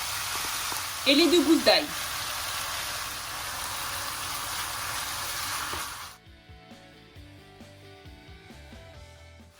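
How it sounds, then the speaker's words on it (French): Chicken and onion frying in olive oil, a loud steady sizzle that cuts off partway, with someone speaking briefly and utensil clinks before quieter music takes over. "je dépose dans cette huile d'olive le poulet"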